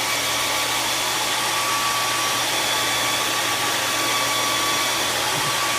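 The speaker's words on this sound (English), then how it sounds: "if you've got a blow dryer, by all means get that out and let's start drying up the first layer" A blow dryer runs steadily and loudly, drying the first layer of paint on a coneflower painting, a constant whooshing drone with no pauses and no talking.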